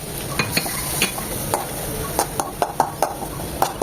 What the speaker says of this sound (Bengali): খুব ভালোভাবে নেড়ে চেড়ে মিশিয়ে নেব